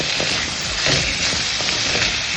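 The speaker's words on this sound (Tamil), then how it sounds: "இப்போ வெங்காயத்தை நாம இதுல சேர்த்தாச்சு. இது நல்லா வதங்கட்டும்." Onions sautéing in a pan for tomato kurma, a dense, even sizzle with faint stirring scrapes throughout, close and steady without any voices.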